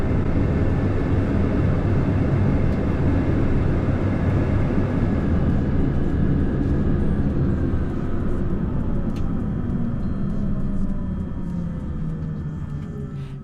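A Sounds Air Pilatus PC-12 turboprop sits at a remote airport stand, its engine giving a loud, steady broadband drone that holds for the whole stretch and eases slightly toward the end.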